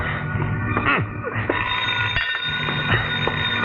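An old-fashioned telephone bell rings continuously in a rapid metallic trill, loud and close, with faint clicks and rustling underneath.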